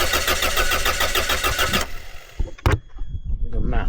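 A Land Rover Freelander engine cranks over repeatedly without catching, a loud, close, rhythmic churning that stops abruptly partway through, followed by a couple of clunks and a brief voice.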